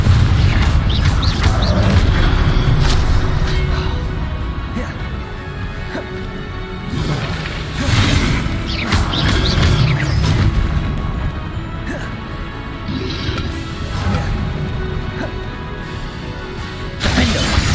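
Confringo fire-blast spells crashing and exploding during combat in Hogwarts Legacy, a loud continuous barrage of booms, smashes and thwacks layered over dense rumbling game noise with no pause.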